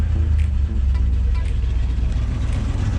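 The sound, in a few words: 1966 Oldsmobile Toronado engine idling with lopey stock camshaft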